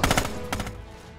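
A machine gun firing in the World War II shooter game Red Orchestra 2. A quick burst of three or four loud reports is followed by a fading echo.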